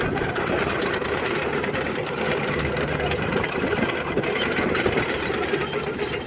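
A Yanmar diesel engine on an excavator running steadily, a close, continuous mechanical hum and rattle with a faint rhythmic knock underneath, no talking.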